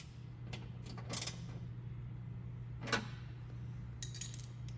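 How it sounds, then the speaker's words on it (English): A 1/2 inch ratchet wrench with a socket snugs down bolts on a rear bumper for a 2nd gen Tacoma, giving a few short, close clicking bursts over a steady low hum. "Then using our 1/2 inch wrench in a socket, we'll get this snug down."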